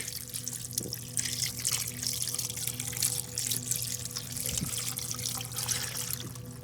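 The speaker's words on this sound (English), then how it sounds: "Value chicken gravy mix that I've mixed in 2 cups of water. And I'm just going to pour this all around here." Chicken gravy mix stirred into two cups of water is poured around the inside of a slow cooker, a steady near trickle and splash of liquid running continuously over a low background hum, with no talking.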